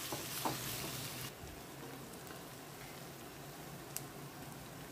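Spring onions and urad vadiyalu frying with chili powder for a pulusu, a faint steady sizzle with a brief stir near the start and a light tick later, no talk.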